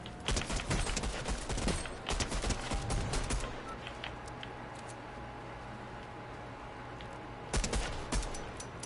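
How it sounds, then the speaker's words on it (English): Rapid bursts of pistol gunfire in a first-person shooter game, dense popping shots packed into the first few seconds, then a lull of quieter game ambience before another short volley near the end. "Oh, that pistol popping."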